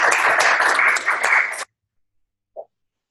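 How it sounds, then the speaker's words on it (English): Brief burst of clapping from a small class group, about 1.6 seconds of dense hand claps that stop abruptly, followed by silence and one faint short knock. "I'm going to give him applause."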